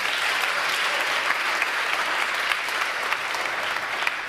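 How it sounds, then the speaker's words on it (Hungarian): Audience applause at a winter camp Sunday morning gathering, a dense, steady wash of many hands clapping close by, sustained evenly throughout without pauses. "nagy tapsot neki."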